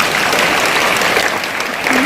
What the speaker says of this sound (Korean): 자기에게 큰 박수 한번 부탁드리겠습니다